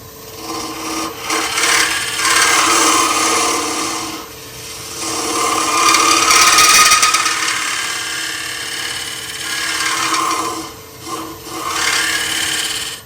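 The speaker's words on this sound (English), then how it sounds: "I'll probably clean the surface up just a little bit with the gouge." A woodturning gouge rasps and scrapes across a spinning wooden dowel on a lathe, a continuous rough rubbing in long swelling passes with short pauses between.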